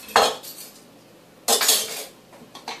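A metal utensil clinks and scrapes against a bowl while sage ricotta lemon sauce is mixed, coming in two short bursts with a quieter faint clink near the end.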